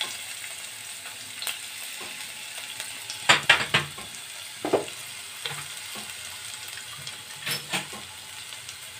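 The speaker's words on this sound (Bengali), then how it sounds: "আমার কড়াই তেল গরম হয়ে গেছে।" Chopped garlic sizzling in hot oil in a wok for paneer Manchurian, a soft steady fry with a few louder crackles and spatters over a quiet background.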